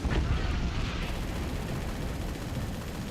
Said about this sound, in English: Both howitzers hitting the right spot in rapid succession.